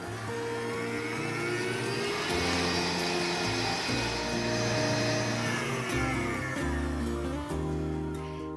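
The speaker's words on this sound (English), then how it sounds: "we're going to crack in some eggs and add some sugar and whisk up" An electric mixer whisks eggs and sugar for a chocolate torte, a loud, continuous motor whine with shifting tones and a slight rise and fall in pitch, close by and without speech.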